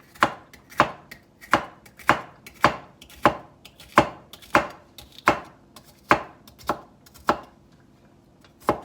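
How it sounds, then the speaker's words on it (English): Bitter gourd from a home garden sliced thinly with a knife on a board, about a dozen crisp, evenly spaced chops close up, each a sharp snap, with no voices. "So I'm just slicing them thinly."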